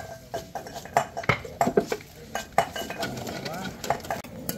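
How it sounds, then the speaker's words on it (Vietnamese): Pig trotters are chopped on a board, giving a quick run of uneven close knocks with some clinking and kitchen clatter underneath. "Cái móng cứ băm đây"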